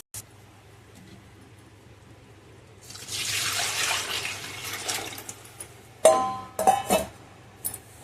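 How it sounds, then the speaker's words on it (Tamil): Fish curry liquid pours steadily into a pan for a couple of seconds, followed by clinks of metal utensils and a light scrape nearby. "குழம்ப ஆட் பண்ணியாச்சு."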